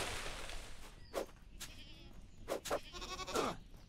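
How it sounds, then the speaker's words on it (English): Goats bleat in Wild Terra 2, a few short distinct calls spaced over several seconds at moderate volume, over a soft background wash and without speech. "There's a goat right here."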